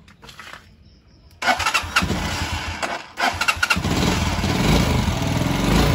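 A motorcycle engine coughs and catches, idles unevenly, cuts out briefly, then restarts and runs steadily at close range, with a kill switch used to stop it.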